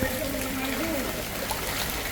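Floodwater rushes through Simarda village after about 15 inches of heavy rain, a steady, dense hiss of flowing water that stays at an even level throughout, with a voice heard faintly over it at the start.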